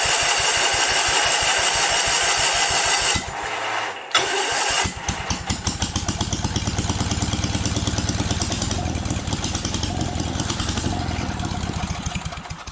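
A 1977 Sears 16/6 lawn tractor engine chugs loudly in a fast, steady rhythm, briefly cuts out, then restarts and keeps running roughly at close range.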